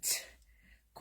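A short, breathy sneeze burst up close, followed by quiet and then the start of a voice.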